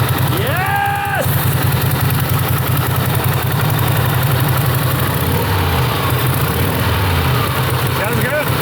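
An 80-year-old Harley Panhead engine idles loudly and steadily after being kick-started, a close, throbbing rumble, with a short whine at the start and people talking over it.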